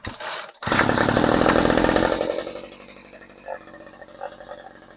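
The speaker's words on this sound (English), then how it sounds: "Just going to turn the idle up just a little bit, so hopefully it won't stall out." Homelite string trimmer engine revving loudly at first, then settling into a steadier, quieter idle after the idle is turned up; a voice speaks over the running engine.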